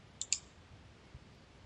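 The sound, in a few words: computer mouse clicking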